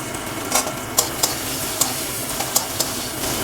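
Chopped medium onion added to hot oil with reddened garlic, frying with a steady sizzle while a utensil stirs and scrapes the pan in several sharp taps, close and alone without talk.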